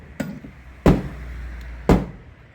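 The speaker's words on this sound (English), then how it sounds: "Here comes Thor and his hammer" Hammer blows during a home renovation demolition, with a light tap followed by two heavy, booming strikes about a second apart that ring briefly, close and loud in an otherwise quiet room.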